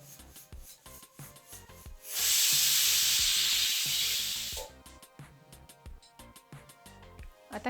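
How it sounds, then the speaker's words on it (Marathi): A pressure cooker on the gas, cooking a spicy brinjal and potato rassa, lets out its whistle as a loud, steady rush of hissing steam lasting about two and a half seconds, set between light clicking and rattling kitchen sounds. "आता ही 1 शिट्टी झाली आहे,"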